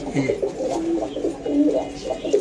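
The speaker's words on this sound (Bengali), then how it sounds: "যে আর্মি নটটা ডাকতেছে দেখেন" Racing pigeons coo close by in a loft, with soft repeated throaty rolling calls overlapping through the whole stretch.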